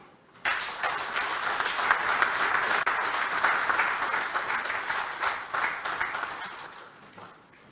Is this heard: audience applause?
yes